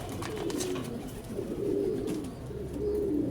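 Pet pigeons cooing, a few soft low rolling coos repeating close by over a faint background, with no talk.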